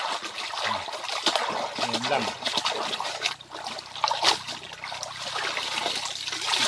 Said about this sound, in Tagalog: Kailangan po kusot-kusutin mo rin siya sa tubig para matanggal din yung mga dumi at yung bula.